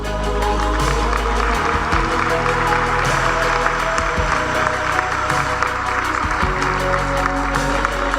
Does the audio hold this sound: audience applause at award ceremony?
yes